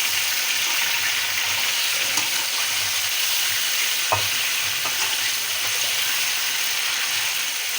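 Chicken fries in a pan for matar pulao, a loud, even sizzle close up with occasional stirring scrapes and clinks, no voices.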